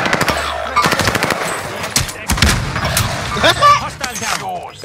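Video game gunfire during a riot shield match: rapid bursts of automatic fire and single shots, loud and close, mixed with booms, while players talk over the shooting.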